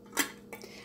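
A metal tea infuser drops into a teapot in a home kitchen with a short clinking knock, followed by a softer second clink a moment later.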